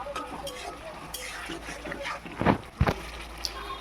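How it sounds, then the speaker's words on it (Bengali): Spices with turmeric, chili powder and salt stir-fried in oil for a fish curry, a spoon scraping and clinking against the pan over a steady low sizzle, with a couple of louder scrapes midway, close up. "এবার একটু ভালো করে কষিয়ে নিচ্ছি, তেল ছাড়া অবধি একটু অপেক্ষা করতে হবে"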